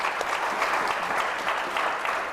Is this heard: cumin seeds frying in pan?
no